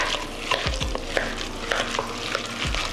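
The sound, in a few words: mixing potato salad ingredients in a bowl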